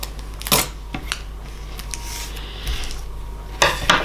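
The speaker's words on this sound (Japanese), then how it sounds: "ハサミで 切ってみますね" Scissors cutting through a vinyl seal on an N-gauge model train package, a few sharp snips and rustles spread over several seconds, close and fairly quiet.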